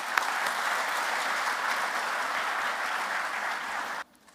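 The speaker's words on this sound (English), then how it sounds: "join me in giving another huge round of applause to our orchestra" A concert audience gives a sustained round of applause for the orchestra, dense even clapping that cuts off abruptly near the end.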